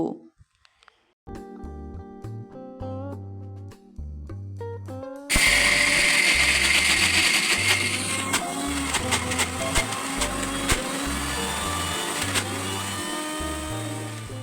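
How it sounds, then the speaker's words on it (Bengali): Kitchen mixer grinder blending soaked black gram lentils with a little water, starting in short pulsed bursts and then running as a loud continuous whirring grind. "মিক্সিতে অল্প অল্প করে কলাইগুলো দিয়ে দিলাম এরপর সামান্য জল দিয়ে বেটে নেব"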